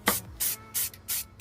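Aerosol spray paint goes onto a wiper arm from an 8th-generation Honda Civic in a rhythmic series of five or six short, loud hissing bursts with brief pauses between them.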